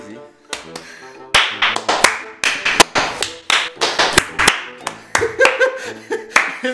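Uneven hand claps from a small group, bursting in and out in irregular clusters, with a few sharp single slaps and brief voices mixed in.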